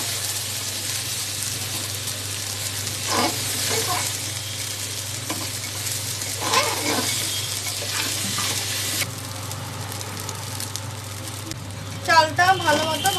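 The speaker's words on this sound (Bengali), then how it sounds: "চালটা দেখুন এরকমভাবে অল্প অল্প করে ভেজে নিতে হবে" Rice fries in oil inside a pressure cooker, a steady sizzle with repeated scraping stirs throughout, while a voice talks intermittently over it.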